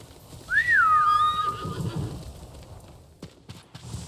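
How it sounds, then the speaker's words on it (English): Horse in Ghost of Tsushima giving one loud, clear whinny that rises and then falls, followed by a few soft hoof clops and low rumbling in the background. "Horsey."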